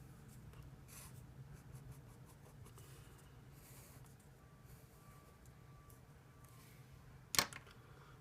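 A marker squeaks on a board as a double-headed arrow is drawn during an engineering lesson on torsional bars: faint, scattered strokes over room hum, ending with one short, sharp squeak.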